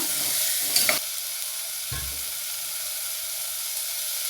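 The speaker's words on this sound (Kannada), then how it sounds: "ಹಾಗೆ ಒಂದು ಸ್ವಲ್ಪ ಬಟಾಣಿ ಕೂಡ ಹಾಕ್ತಾಯಿದ್ದೀನಿ. ಒಂದು ನಿಮಿಷ ಇದನ್ನು ಬಾಡಿಸ್ಕೊಳ್ಳೋದು ಈಗ." Peas fry in a hot pan, a steady close sizzle with a burst of stirring and scraping near the start, then a lighter continuous hiss with a brief clunk midway.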